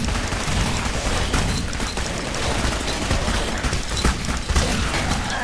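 Dense, continuous gunfire in Clive Barker's Jericho, a steady loud barrage of overlapping shots with scattered heavier booms, no break for the full stretch.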